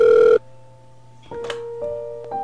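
A telephone ringing in the video game FNAW: Trapped Within: a loud electronic ring tone cuts off early, followed by quieter tonal beeps and clicks over a low steady hum.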